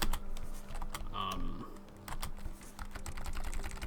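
Steady, rapid keyboard typing while playing the typing game Epistory, with clicking keystrokes close and clear alongside faint game sounds.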